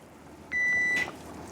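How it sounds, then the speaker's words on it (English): A kitchen timer sounds one steady electronic beep lasting about half a second while a pot of crabapple jam boils, over a quiet background hum. "That's a timer that I set."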